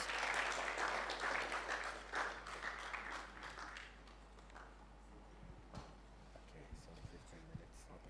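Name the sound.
audience clapping for a speaker coming to the stage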